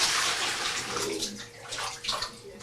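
Water scooped by hand from a basin standing in a bathtub, close splashing and sloshing with a couple of louder scoops near the end.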